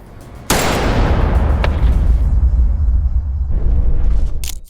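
A loud, sharp gunshot in a Squid Game scene, followed by a sustained booming roar and rumble that fades near the end, with no talk.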